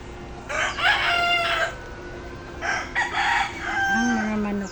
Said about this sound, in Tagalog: Karigos na naman sa mga manok.